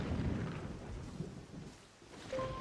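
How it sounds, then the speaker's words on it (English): Rain pours and thunder rumbles during a thunderstorm in the video game The Legend of Zelda: Wind Waker HD, a steady wash of rain with low rolling swells, with no voices. "it's starting to thunderstorm in the game again"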